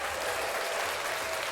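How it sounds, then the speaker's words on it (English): Steady, dense clapping from a crowd applauding a judge, loud and continuous without a break and with no talking over it. "Round of applause to that judge, Judge Whitaker."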